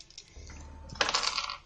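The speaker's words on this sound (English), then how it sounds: "I'm gonna start using metal dice now" Metal dice rolled and clattering on a surface, a short run of bright metallic rattles ending in a louder tumble, close and alone.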